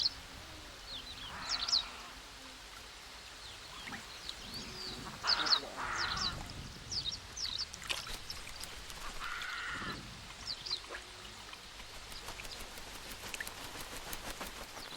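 Birds calling across the Djoudj wetland swamp in Senegal, with scattered chirps and squawks at moderate distance over a steady outdoor background, some calls overlapping and a few louder bursts.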